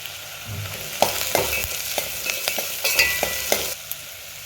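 Onions and coriander seed powder fry in a hot pan for an Indian aloo sagu, with a steady sizzle broken by several sharp scraping stirs of a spoon against the pan. No one speaks.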